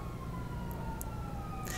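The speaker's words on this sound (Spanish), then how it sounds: "Se escuchan 200 sirenas." Police sirens wail steadily through a chase in a London-set video game, a sustained rising and falling tone over constant low engine rumble, with a brief burst of noise near the end.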